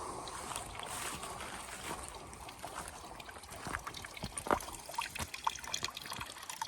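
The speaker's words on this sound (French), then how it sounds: "Là, t'as la petite source." A small spring trickles along a hiking trail in the Hautes-Alpes, a soft continuous watery babble heard close by with faint outdoor ambience and scattered light knocks.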